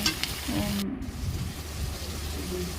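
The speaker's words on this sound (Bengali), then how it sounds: "এরপর টমেটো কুচি দিয়ে ভালো করে ভেজে নেবে" Chopped tomatoes frying in a pan for mutton curry, giving a soft, steady sizzle with light stirring scrapes close by, fairly quiet overall.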